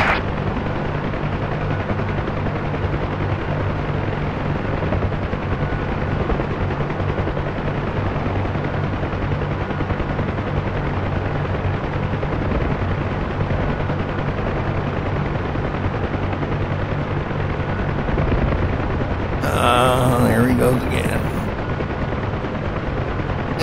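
UH-1H Huey helicopter in the DCS flight simulator, a steady loud rotor and turbine drone running throughout, with a brief burst of radio chatter near the end.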